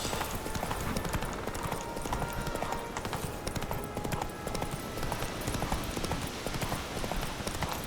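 Horse hooves clip-clop in a steady, even rhythm throughout as a horse is ridden in the video game The Witcher 3, with no talk over it.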